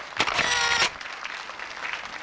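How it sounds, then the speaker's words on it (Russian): Brief burst of studio audience applause on a television quiz show, a loud dense clatter of clapping lasting under a second before fading into quiet room tone. "аплодисменты наших зрителей, конечно же"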